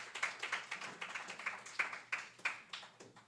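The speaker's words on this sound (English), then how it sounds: "Give her a round of applause." Applause for a visiting author at an authors' forum, a sparse, rhythmic patter of a few hands clapping, fairly faint and regular, with no voices over it.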